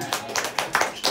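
Applause from the audience at a live battle event: a short burst of scattered hand claps, close and moderately loud, with a voice mixed in.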